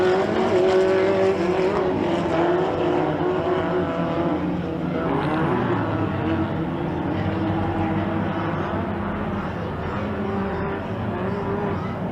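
Mini stock race cars, a pack of short-course racers at a fairground track, roar continuously as they accelerate after the green flag, a dense, loud, overlapping engine drone with no talk.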